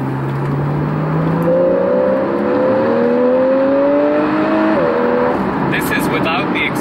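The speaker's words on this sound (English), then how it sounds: "This car, with the exhaust off, sounds amazing." A Porsche 991.1 GTS engine revs up in a smooth rising sweep with the sport exhaust off, a loud steady tone climbing then dropping back, heard close.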